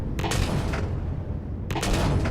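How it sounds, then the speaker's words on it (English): Gunfire from the video game Empyrion Galactic Survival as drones are shot down: two dense bursts of rapid shots, the first longer and the second starting after a short lull, heard at moderate loudness. "Any cannon drones we see, as well as minigun drones, need to be shot down."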